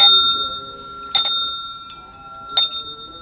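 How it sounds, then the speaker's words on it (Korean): A Salvation Army charity kettle bell ringing on a cold winter street in Gwanghwamun, Seoul, giving three bright metallic rings with a long sustained tone between them, close and clear. "올해도 어김없이 구세군의 종소리가 추운 겨울거리에 울려 퍼지고 있네요"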